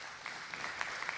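Men in a live event audience clapping, a brief patter of scattered hand claps heard at moderate distance, no one speaking over it.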